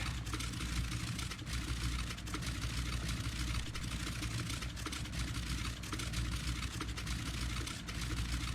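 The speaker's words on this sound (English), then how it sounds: "Yeah, you should at least hear the engine" Engine of a small propeller-driven aircraft running steadily, a dense constant drone heard up close for several seconds with no talking.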